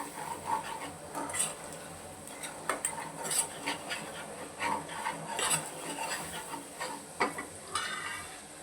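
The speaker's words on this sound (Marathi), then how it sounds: "आता मसाले सगळे आपण तेलामध्ये मिक्स करून घेऊया।" Ground spices, Kashmiri red chili powder and garam masala, stirred into hot oil in a pan with a spoon, giving steady close scraping and light clinks over a soft sizzle, with no talk.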